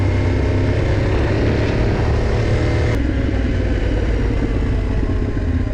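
Yamaha Ténéré 700 motorcycle engine roars loud and close in a steady, dense drone through the whole stretch, the rider apparently moving along a canyon route, with no voices.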